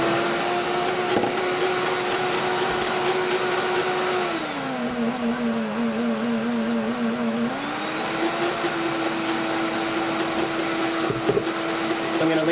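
A kitchen blender runs steadily on its automatic program, a loud continuous motor whine that dips lower in pitch midway as the load changes, then rises back, with small clunks of a chunk in the jar.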